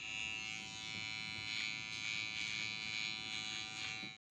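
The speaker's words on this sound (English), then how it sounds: "Use the trimmer to line up the edges of your beard on your face and neck" A Wahl beard trimmer buzzes steadily and up close while lining up the edges of a beard on the face and neck, then cuts off abruptly at the end.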